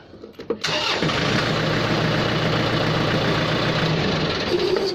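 A Yanmar walking tractor engine cranks briefly, then catches and settles into a loud, steady, close chugging idle.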